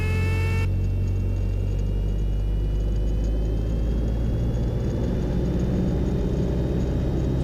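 Cessna 172R engine run-up at 2,000 RPM with brakes held: a steady, loud droning rumble with a constant even tone, heard from inside the cockpit without talk.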